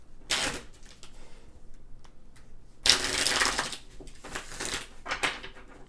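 Tarot cards being shuffled up close: a short riffle, a pause, then a longer burst of crisp, papery flutters and snaps.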